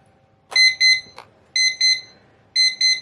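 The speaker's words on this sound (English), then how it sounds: "When it's done, it'll do a little beep." A classroom visual timer beeps in pairs, three double-chirps spaced about a second apart, loud and clear against near silence.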